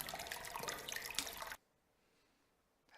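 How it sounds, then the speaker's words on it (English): Running water in a first-person text-based adventure game, a loud splashing stream for a second and a half that cuts off abruptly into near silence. "I feel like I need to tone that water sound down because otherwise it's kind of loud"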